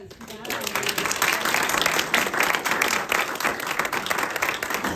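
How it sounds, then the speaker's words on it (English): Audience applause at a talk on sage grouse conservation, steady dense clapping for several seconds after a brief lead-in. "applause."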